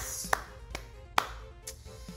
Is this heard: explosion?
no